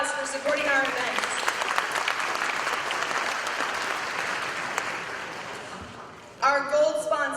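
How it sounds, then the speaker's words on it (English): A business summit audience applauds: steady, dense clapping for several seconds that tapers off, with a voice speaking just before it and again right after. "Let's give him a big round of applause for supporting our events."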